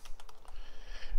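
Computer keyboard keys pressed in a quick run of sharp, close clicks and taps, with the escape key struck among them, all within a moment.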